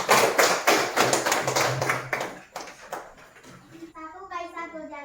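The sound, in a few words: classroom applause for a student group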